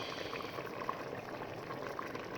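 Egusi soup with okra and dried fish slow-cooking on low heat in a pot, a soft continuous bubbling simmer with occasional small pops, faint and close.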